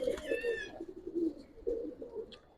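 Pigeons at a seller's place give soft, low, repeated coos in close succession, fairly quiet and near, with a faint higher whistle-like tone at the very start.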